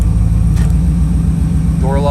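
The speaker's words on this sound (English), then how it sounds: "I'm gonna start the car again just to make sure that these switches are working" A 1995 Chevrolet Camaro Z28 engine idles with a low, steady rumble close by, and a voice can be heard talking over it near the end.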